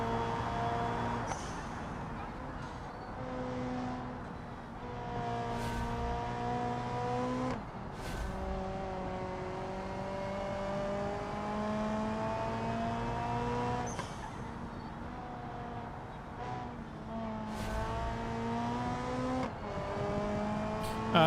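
An RLS GT250 race car engine in BeamNG.drive revs and shifts steadily through its gears during hot laps. It climbs in pitch, then drops sharply at each upshift, repeating for about twenty seconds with no talking.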